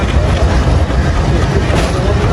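A passenger train rolling into Pachuria station on the Faridpur to Pangsha line, with a steady loud rumble of wheels and carriages, rail noise filling the whole stretch without a pause.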